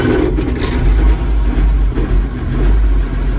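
An old 6610 tractor engine fires up and revs, a loud, close, steady low rumble that surges and dips over a few seconds.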